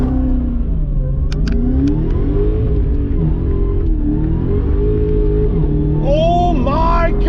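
A 2021 Dodge Charger SRT Hellcat Redeye, a 797-horsepower rear-wheel-drive full-size sedan, revs and accelerates hard. The engine roars loud and close throughout, and its pitch climbs in sharp sweeps near the end.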